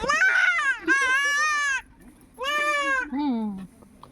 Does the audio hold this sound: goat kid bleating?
yes